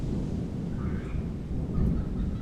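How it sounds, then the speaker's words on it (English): Low rumbling thunder from a January thunderstorm, a steady deep roll that swells slightly toward the end, fairly loud and continuous with no voices over it. "thunder behind me."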